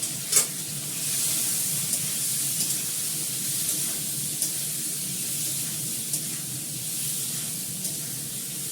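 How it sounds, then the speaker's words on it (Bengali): Potatoes fry in a hot pan with a soft, steady sizzle and hiss, broken by a few small pops and stirring clicks at close range, with no speech. "ভালো করে আলুটাকে লাল করে ভেজে নেবো।"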